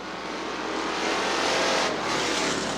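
Street stock race cars at Butler Motor Speedway roar past at the finish in a loud, continuous engine drone that swells slightly mid-way, with no talk.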